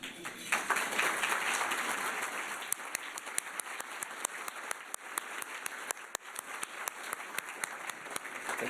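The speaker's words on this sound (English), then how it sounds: "can you stand up so we can give you a round of applause?" A university audience gives a sustained round of applause for guests at a formal gathering, with individual claps sharp and distinct as the sound thins slightly toward the end.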